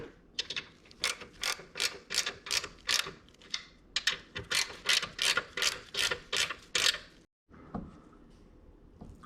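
A 9/16 socket ratchet tightens nylon locking nuts on a TJ Jeep Wrangler skid plate, with rapid rhythmic clicking strokes in close bursts, a short pause, then a final few clicks.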